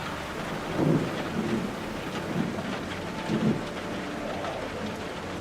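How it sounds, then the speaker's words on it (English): Steady rain with low rumbling thunder in the science-fiction video game The Alters, a continuous wash of rainfall with a few soft, distant thunder rolls beneath it and no voices. "Rain sounds good."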